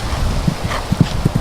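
Horse cantering in an arena riding lesson, hooves clip-clopping in an uneven, rolling rhythm of several close, fairly loud beats.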